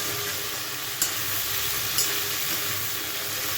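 Vegetables fry with salt and turmeric in a pan, giving a continuous hissing sizzle. Two brief scrapes or taps sound as the mixture is stirred, and no voice is heard.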